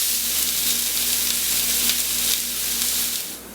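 Pork chops sizzle steadily on a grill just after being flipped, a loud, close, continuous frying hiss with a faint underlying hum, fading slightly at the end.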